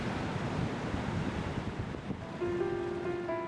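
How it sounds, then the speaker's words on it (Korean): Rough ocean waves surging in a continuous, loud roar of surf with wind noise across the microphone, plus a faint steady tone in the last second. "거센 파도는 잦아들었다."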